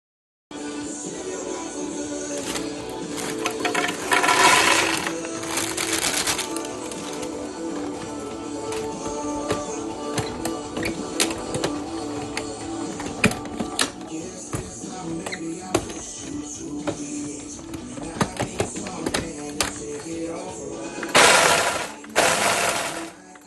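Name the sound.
Ninja food processor breaking up peanuts and Teddy Grahams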